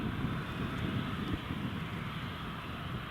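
A TUI airliner taxiing at Newcastle International Airport, a steady broadband engine roar and whine heard outdoors at moderate distance, continuous and even with a faint wind rumble, no talking.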